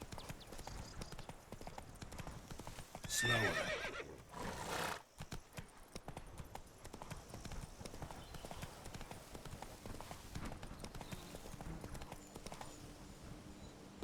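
Horse hooves clip-clop steadily throughout in The Witcher 3, with a brief whinny early on, set against continuous game ambience and a voice speaking now and then.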